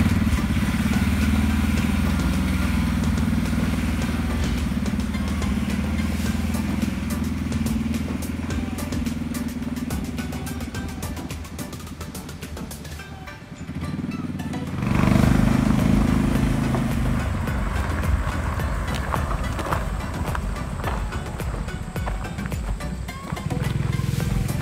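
A Honda Insight fitted with a stage one 212 cc small engine driving on rural Michigan roads, a loud, buzzy, clattering engine drone heard close up, dipping briefly before picking back up.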